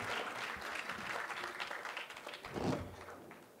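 An audience at a Hindi kavi sammelan applauds to welcome poet Chirag Jain, a soft, dense wash of clapping that holds steady and swells briefly near the end, heard from a distance at low level.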